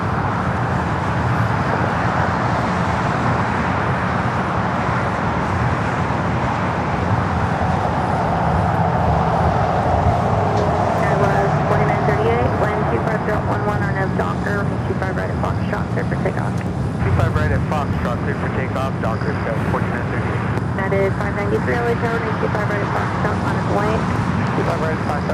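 A Skylease Cargo Boeing 747-400 freighter taxiing at LAX gives a steady, distant jet rumble and whine that holds throughout, with people talking over it almost continuously.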